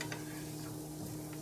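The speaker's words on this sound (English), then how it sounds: "Just saute that in a tablespoon of salted butter or a tablespoon of regular butter" Delicata squash sautés in salted butter with a pinch of salt, giving a steady close sizzle and faint stirring clicks throughout.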